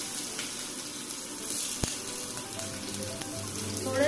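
Onion sizzles softly in a pan for spinach khichdi, a low steady frying hiss with a sharp clack partway through and faint clinks near the end.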